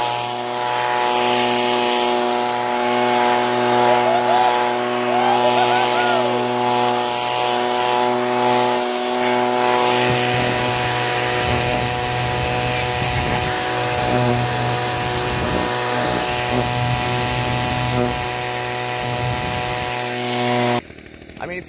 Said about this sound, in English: Oh, look, he's outside blowing some leaves.